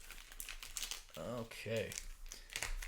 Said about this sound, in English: Gonna give these a good shuffle here.